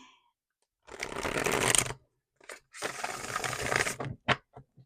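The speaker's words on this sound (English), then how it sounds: "this is the Radiant Sun Tarot that I apparently cannot shuffle today" Radiant Sun Tarot cards are shuffled up close in two brisk riffling bursts, each about a second long, followed by a few light taps and flicks of the deck with no talk.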